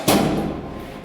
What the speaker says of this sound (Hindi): मैं दरवाज़ा बंद कर रही हूँ